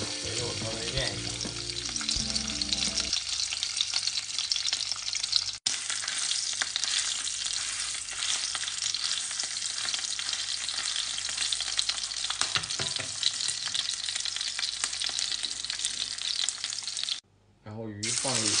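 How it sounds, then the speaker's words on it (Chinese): Pork fat renders in hot oil in a wok, a loud, steady sizzle crackling continuously at close range, with a brief drop near the end before the frying noise resumes. "首先锅中加入油，然后把肥肉稍微炼一下"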